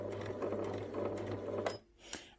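A sewing machine stitches a teddy bear's neck seam, whirring steadily and close for about a second and a half before stopping, followed by a small click.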